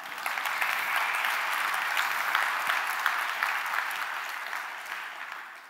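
Conference audience at CSSconf EU 2019 applauding a CSS design-systems talk, steady clapping from a crowd that holds a fairly even level for several seconds, then begins to taper toward the end.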